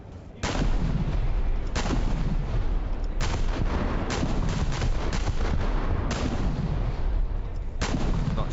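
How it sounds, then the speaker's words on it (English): Four-inch naval guns in War Thunder pound a naval base with a steady series of loud, booming shots, each a sharp blast with a short rolling tail, spaced roughly a second apart over continuous battle rumble. "they're the 4-inch guns now. And so I'm shooting at the naval base."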